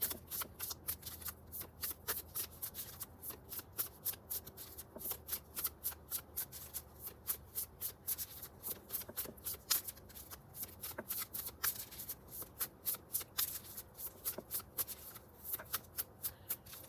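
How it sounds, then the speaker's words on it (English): Cards are riffled and shuffled over and over, a dense rapid flutter of crisp snaps repeating in steady bursts, close and fairly quiet. "I just rebought this deck. That's why the cards are so straight, but it is kind of hard to shuffle"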